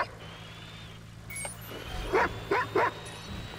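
A few sharp dog barks ring out in quick succession in Watch Dogs 2 game audio over a low steady hum, with a faint electronic tone running underneath.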